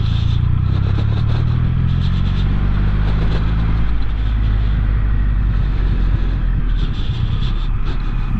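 A Triumph Rocket 3 motorcycle engine rumbles loud and close on a test ride, a deep continuous growl held in a low gear with wind noise, and no talking.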